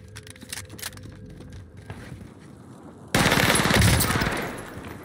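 Rapid burst of RA 225 submachine gun fire in Warzone, loud and close, a fast stream of shots lasting about two seconds, then tailing off after quieter game sounds.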